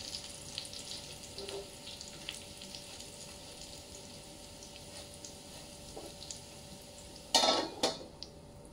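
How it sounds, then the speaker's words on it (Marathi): Cabbage vadi frying in a pan sizzles quietly and steadily, with faint scrapes and a couple of louder clatters of a utensil against the pan near the end. "हे बघा थोडे होऊ दे फ्राय, थोडे ब्राऊन झाल्यानंतर आपण ते काढून घेऊया"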